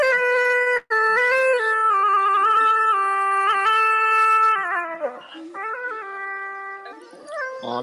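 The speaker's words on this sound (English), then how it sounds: "Auto-tune dog." An auto-tuned dog howl rings out loud and alone, its pitch-corrected tones stepping between sustained musical notes in a long warbling phrase, with a short break near the start and softer wavering howls toward the end.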